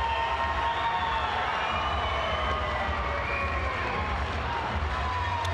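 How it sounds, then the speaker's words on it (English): An ice hockey crowd cheers and shouts at a distance, making a sustained, even roar with whoops and children's yells mixed in, moderately loud and steady throughout. "The crowd will cheer."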